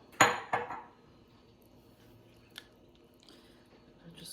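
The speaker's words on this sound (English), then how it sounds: "So I'm going to hurry up and put the lid back on." Lid set back onto a crockpot of New Orleans-style chicken, sausage and shrimp gumbo: two close clattering knocks of lid on pot, then a faint light clink and soft handling sounds.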